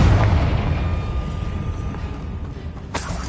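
In Hogwarts Legacy, a Confringo blasting spell sets off a heavy, rumbling explosion that is loud at the start and decays slowly, with a sharp crack near the end.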